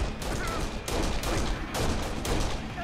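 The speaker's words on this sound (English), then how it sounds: "Someone is shooting up." Bursts of rapid gunfire and explosive shots from the Kane and Lynch video game, loud and continuous across the whole stretch with dense overlapping volleys and no voices.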